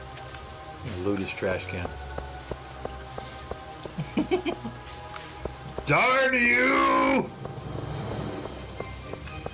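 Steady rain falls in the Stardew Valley farming game, a constant soft patter underneath game sound effects and someone talking over it.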